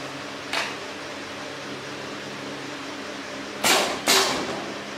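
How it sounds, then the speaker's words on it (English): A semi-automatic screw capping machine caps a cosmetics pump bottle, giving one short hiss followed later by two quick pneumatic bursts over a steady mechanical hum. "This is a test video of the semi-automatic screw capping machine from Guangzhou HMD Cosmetics Machinery."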